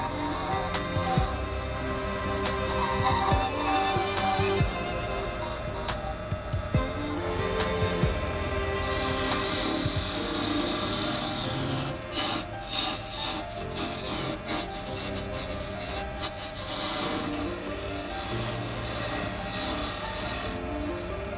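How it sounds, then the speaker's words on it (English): An abrasive pad rubs a turned wooden chess piece spinning on a lathe, giving a steady, close, continuous rasping hiss over the constant motor hum throughout. "an abrasive pad to prepare the piece for finishing"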